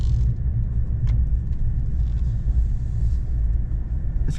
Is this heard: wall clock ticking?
no